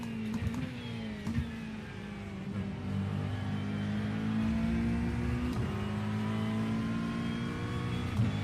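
Race cars in iRacing lapping Road America, engines revving and climbing through gears with rising and falling whines, a sustained loud drone with shifts and another car audible nearby, no talk over it.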